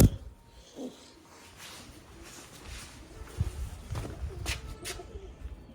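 Low, soft cooing from pigeons close by in their coop, repeating irregularly over a faint background rustle with a few sharp clicks.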